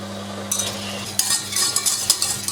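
Milk is stirred steadily in a pot as it comes to a boil for a berry summer trifle, with soft scraping and bursts of bubbling hiss, close and moderately loud with no talk.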